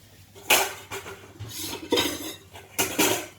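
Utensils scrape and clatter against a bowl while sweet and sour vegetables are mixed. There are three distinct bursts of stirring, close and moderately loud, with no talking.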